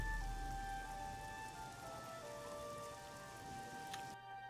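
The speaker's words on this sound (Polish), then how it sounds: "Ale pada dalej, no cholera." Steady rain falls in The Elder Scrolls IV: Oblivion, a soft even hiss of drops on surfaces with faint tonal game ambience over it, continuous and fairly quiet with no voices.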